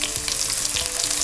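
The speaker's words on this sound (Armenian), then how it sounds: "Հենց նույն թավայի մեջ ավելացնում եմ ձիթայուղ, տապակում ենք սոխը" Onion frying in olive oil in a pan, a loud, close, continuous crackling sizzle with bursts of spitting throughout, and no voices.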